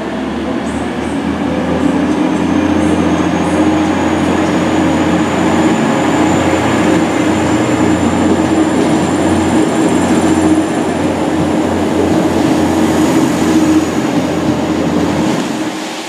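A British Rail Class 185 diesel train rumbles steadily past at close range, a loud continuous engine drone with a faint high whine above it, sustained throughout.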